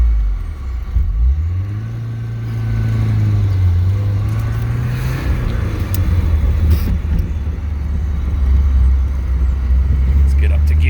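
A 1983 Porsche 944 with a blown fuse issue drives and accelerates, its engine rumbling low and rising in pitch through the gears, with steady road noise and someone speaking over it.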